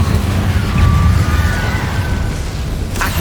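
Incendio fire spell in the Hogwarts Legacy video game bursts with a loud, deep roaring rumble that holds steady, with a thin whistling tone over it and a sharp crack near the end.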